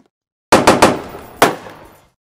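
Gunfire in the Roblox game Police Raid Simulator: three loud, close shots in quick succession, then a fourth after a short pause, each with a ringing, reverberant tail and no talking.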